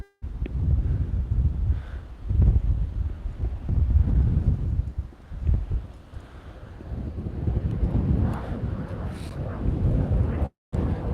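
Gusty wind buffets the microphone in heavy low rumbles that rise and fall, with a brief dropout near the end; no clear speech.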